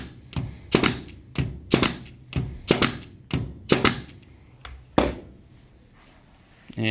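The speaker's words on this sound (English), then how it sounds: "Same thing with the corded nail gun. Press down, squeeze the trigger." A corded brad nail gun fires into wood, a run of about eight sharp, loud, close bangs at a steady rhythm of roughly one every half second, then a single later shot.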